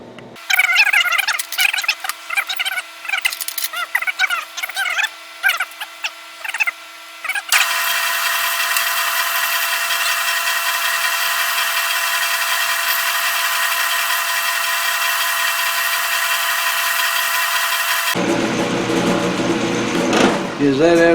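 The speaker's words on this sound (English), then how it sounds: "All right, there's no use you watching me polish this up with a piece of emery cloth." A part spun on a lathe and polished with emery cloth gives a steady, bright whirring hiss lasting about ten seconds, with talking before it and a rougher clatter after.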